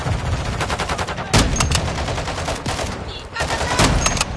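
Rapid automatic gunfire in a military shooter video game, loud dense bursts close by with a few heavier blasts, continuous and chaotic throughout with voices faintly mixed in.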